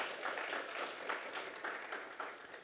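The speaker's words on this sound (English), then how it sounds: "A round of applause, please" An audience claps for a keynote speaker at the RTC Conference 2019. The applause is a brief, dense patter of many hands heard from within the room, with no speech over it.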